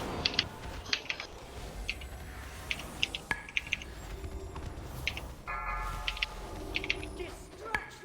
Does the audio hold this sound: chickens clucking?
no